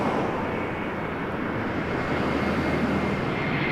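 An Airbus A321 jet airliner on approach to a runway at Toronto Pearson Airport, heard as a steady, continuous broadband engine roar held at an even loudness throughout.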